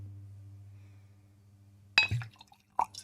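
A wine glass being handled indoors gives a sharp clink followed by a second lighter chime, each ringing out briefly over a quiet room with a faint low hum.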